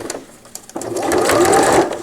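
Sewing machine stitching a cloth diaper cover with gussets, a brief pause followed by a steady, loud run of needle motor whirring close by.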